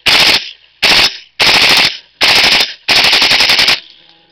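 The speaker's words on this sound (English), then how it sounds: "We're gonna fire off the rest of the rounds." A King Arms airsoft gun fires in five rapid full-auto bursts, each a loud, sharp, close rattle of quick shots separated by short pauses, with no talking.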